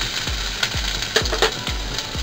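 Onions dropped into hot oil with whole spices (cinnamon, cloves, cardamom, dried red chilli) for khichdi, sizzling steadily while a utensil knocks and scrapes the pan in regular close thumps.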